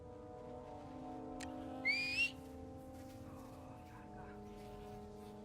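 A short whistle calling a companion in the Star Wars Outlaws video game, two quick rising tones near the middle over a steady humming game background.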